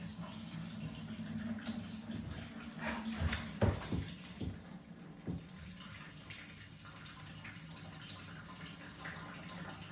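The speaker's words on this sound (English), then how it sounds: "Sounds to me like it's draining." Water gurgles and trickles as it drains through a self-draining scupper plug in a kayak, with a few louder glugs in the middle before settling into a soft, steady flow.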